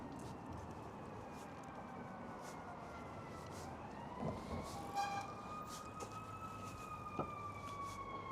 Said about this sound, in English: Muted the mics to save your ears from the blasting sirens of the fire truck.